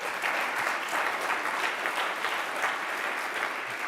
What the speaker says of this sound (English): We can give her another round of applause.